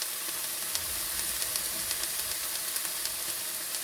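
Soy sauce and nem sauce mixture sizzling in a hot pan with cauliflower, a dense steady frying hiss with small crackling pops, close and continuous without talking.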